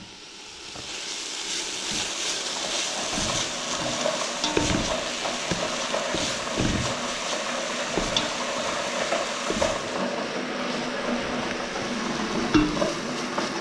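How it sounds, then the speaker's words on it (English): Steady sizzling and crackling of vegetables frying in a hot pan, with occasional stirring clinks and scrapes, fairly close and continuous. "my vegetables are sizzling away."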